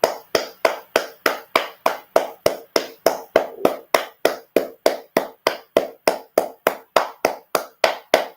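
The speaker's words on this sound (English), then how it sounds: "We need to clap to Ajuri." Hands clap in a steady, even rhythm, about three sharp claps per second, loud and close with no talking.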